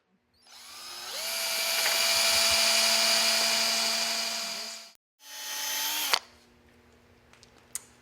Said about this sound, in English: now we've got our holes drilled and we're ready to install